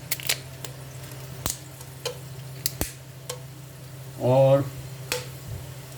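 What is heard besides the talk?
whole spices popping and sizzling in hot pan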